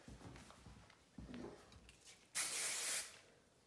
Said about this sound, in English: Using hairspray for those flyaways.